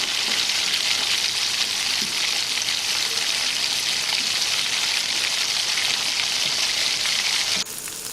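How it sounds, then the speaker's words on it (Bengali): Marinated soybean chunks fry in a hot wok with a loud, continuous, even sizzle throughout, ending with a slight drop in intensity. "এবার ম্যারিনেট করা সয়াবিনগুলি দিয়ে দেব কড়াতে। দিয়ে একদম ভালোভাবে কুক করতে হবে।"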